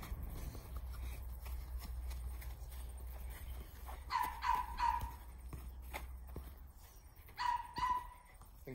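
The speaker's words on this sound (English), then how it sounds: "I think our dog Coco wants to play" A pet dog barks intermittently in the background of a backyard setting, with two short bursts of yips and barks standing out over low steady rumble and scattered noise.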